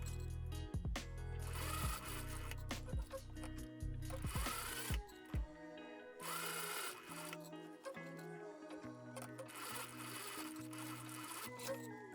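A sewing machine top stitching around a dress panel, running in several bursts of fast rhythmic whirring, separated by pauses filled with fabric handling and small knocks.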